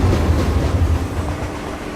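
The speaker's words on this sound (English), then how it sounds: "The subway." A subway train rumbles steadily through a tunnel at night, with a loud, dense low roar and faint clattering wheels throughout, no voices.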